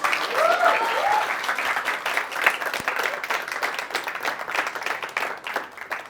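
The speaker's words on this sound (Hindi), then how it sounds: "ताली बजाओ" An audience in a training session breaks into sustained applause, a thick wash of clapping from many hands with faint voices and a brief whistle-like tone near the start.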